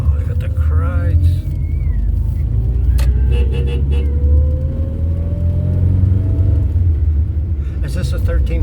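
A classic car, a 1.8-litre twin-cam, rumbles steadily around the Armoy road circuit in Northern Ireland, its engine drone continuous and close while people talk over it inside the cabin.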